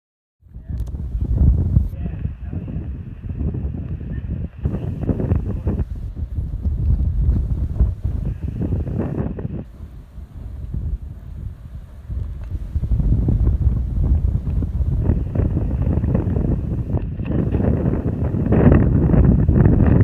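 Strong wind buffets the microphone on a steep, narrow stretch of the Appalachian Trail, roaring steadily through the whole stretch with gusts that rise louder near the end.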